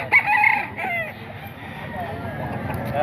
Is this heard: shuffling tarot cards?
no